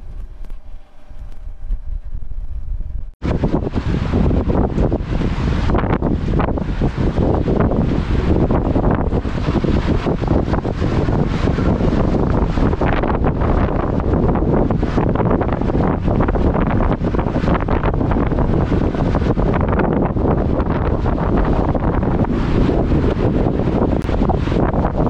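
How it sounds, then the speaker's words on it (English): Wind buffets a sailing boat off the tropical Cape York coast. The steady roar of wind over the microphone starts suddenly and stays loud and dense for the whole stretch, with no voices. "wind's coming now, so we're going to put this camera down and get the GoPro out."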